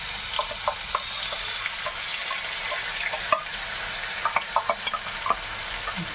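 A paste of ground chilli, onion and tomato fries in a mix of ghee and oil with a steady sizzle, while a utensil stirs it close up and makes occasional light scrapes and clicks.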